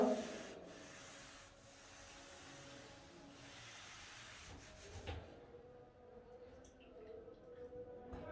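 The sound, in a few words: rubbing out writing on a board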